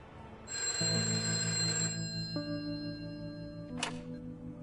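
A telephone rings with steady electronic tones during a phone call from a holding cell, loud and close, the ring pattern sustained with a shifting pitch partway through and a brief bright click near the end; no one speaks.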